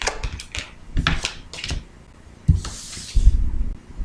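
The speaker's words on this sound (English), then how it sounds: "am shuffling the cards here to get our clarifies to see what other information that I can get here" Tarot cards being shuffled by hand, a run of quick riffling flutters and soft slaps in bursts, close and fairly loud, with brief pauses between shuffles.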